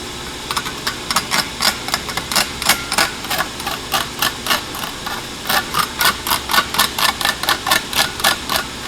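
Sharp metallic taps ring out in quick, uneven bursts, a hammer striking a metal weld from a Harbor Freight Flux 125 welder repeatedly at close range.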